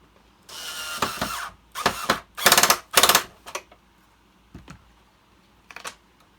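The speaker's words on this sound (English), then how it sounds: "I'm going to put these 2 screws in." Close, loud bursts of ratcheting clicks from a screwdriver driving two screws into a Hoover Turbopower 1 vacuum cleaner during refurbishment, coming in several short uneven spurts with brief pauses between.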